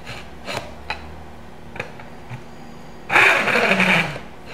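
Fret ends on a Fender Stratocaster neck are sanded at an angle, a short burst of close, loud, rasping abrasion following a few faint taps and handling knocks.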